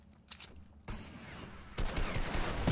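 Gunfire rattles through a Fortnite match in quick overlapping volleys, with a sharper, louder burst of shots near the end.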